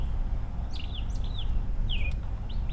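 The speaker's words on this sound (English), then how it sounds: "The bird likes to sing." Short chirping bird song phrases, several quick rising and falling whistles repeating over a couple of seconds, heard against a steady low background rumble.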